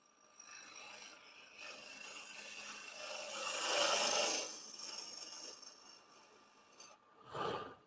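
A wood lathe gouge scrapes through a face-grain push cut against the grain with a rising and falling rasp. The noise swells in the middle and ends with a short louder burst.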